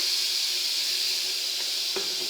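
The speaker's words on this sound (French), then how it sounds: "vous mettez un petit peu d'huile et vous faites cuire les oignons comme je vais le faire là" Onions cooking in a little oil for lentils with lardons and paprika, a steady bright sizzle and hiss throughout, with a faint tap near the end.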